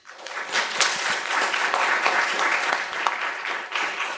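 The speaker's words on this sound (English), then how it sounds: "let's give our speakers a round of applause" A seminar audience breaks into steady, dense applause for the speakers, a continuous wash of many hands clapping close and loud for about four seconds, with no talk over it.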